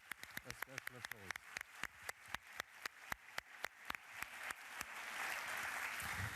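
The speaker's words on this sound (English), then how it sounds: "So I think it deserves a special applause." A conference audience at a closing plenary claps in sharp, distinct, evenly spaced claps that speed up and swell into a fuller continuous applause toward the end.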